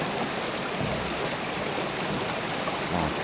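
A stream flows through woods at night, giving a steady, close rushing and babbling of water that fills the whole stretch without a break. No one speaks.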